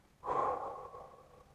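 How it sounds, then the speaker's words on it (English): A full, forceful exhale during a hip breathing exercise, a single breathy rush of air that starts abruptly, peaks, and slowly tapers off in a quiet room. "You're going to fully exhale."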